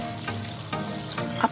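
A spoon stirs a Sri Lankan egg curry mixture with coconut milk in a pan, giving soft scraping strokes over a low sizzle, with a sharper clink near the end.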